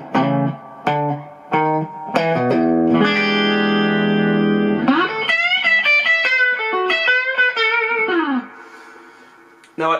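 Les Paul electric guitar through high-gain distortion, pickups in the middle position with the phase reversed, giving a thin, nasal tone. Chords and quick single-note phrases ring with sustain and reverb, and the guitar plays alone.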